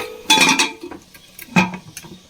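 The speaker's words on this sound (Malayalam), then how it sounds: "നമുക്ക് കുക്കർ അടയ്ക്കാം." Metal clanks of a pressure cooker lid being fitted and shut in a home kitchen, two distinct bursts of clattering with a short pause between, close and fairly loud.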